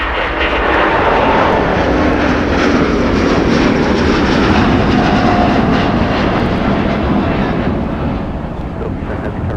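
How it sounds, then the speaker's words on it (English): A Boeing 747 airliner rolls past at Minneapolis–Saint Paul airport on a winter day, its engines producing a loud, sustained, broadband roar that stays close and steady throughout, with no talk over it. "here comes our 747"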